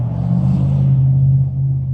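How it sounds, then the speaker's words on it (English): Road traffic passing close by: a loud, steady low engine rumble with a constant hum that fades slightly in its upper hiss, heard alone without talk. "Traffic here behind us as well."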